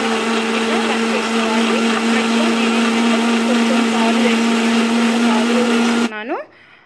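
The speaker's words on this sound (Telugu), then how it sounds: "ఇవన్నీ వేసేసుకొని మిక్సీకి రన్ చేసుకోవటమే." A mixer grinder blends pomegranate seeds, milk, sugar and ice with a loud, steady motor whine at close range, then switches off near the end and winds down quickly into quiet.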